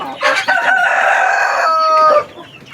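A Plymouth Rock rooster crows loudly and close by among backyard chickens, one full drawn-out cock-a-doodle-doo lasting about two seconds with no talking over it.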